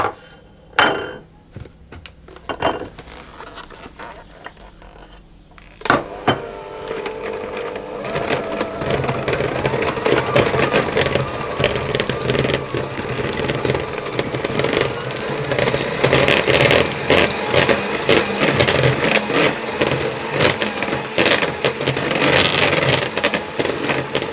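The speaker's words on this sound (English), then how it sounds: "use my hand mixer just to whisk that up a little bit to soften it even more than it is at the moment" A hand mixer whisks softened butter in a bowl for a tart, starting after a few scattered knocks and then running as a steady, loud whir with clattering beaters for about twenty seconds, no voices.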